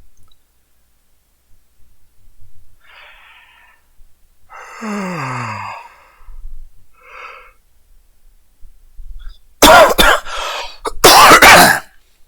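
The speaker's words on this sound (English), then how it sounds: "Nice riveting sound of me yawning." A man yawns alone indoors at his computer: a long drawn breath with a falling, groaning voiced sweep, then a few softer breathy sounds, and finally two loud, close, harsh exhalations like coughs or throat clearing.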